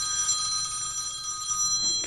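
A phone rings with a steady electronic trill, a clear fairly loud tone holding throughout the short moment without pause, over a faint room background.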